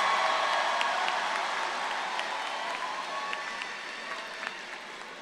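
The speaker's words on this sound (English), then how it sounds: "Round of applause." A large audience applauds the graduating class at a university commencement ceremony, a steady distant wash of many hands clapping that tapers off slightly.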